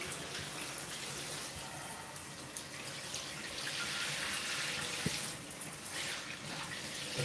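A home bathroom shower runs steadily, producing a continuous broad hiss of spraying and splashing water with no pauses.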